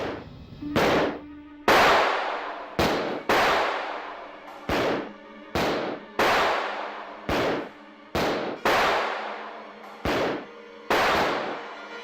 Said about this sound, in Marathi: शशिकांत आपल्यावर गोळ्या झाडतोय.